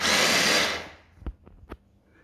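Loud whirring burst from a blender chopping cashews for cashew cream, running briefly before cutting off and leaving a few faint knocks and clatters.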